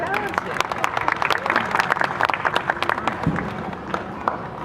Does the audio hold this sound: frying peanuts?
no